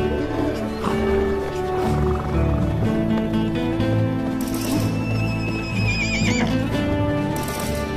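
Wild horses in the Namib desert neigh and whinny in a couple of drawn-out calls, rising over steady orchestral music that plays throughout.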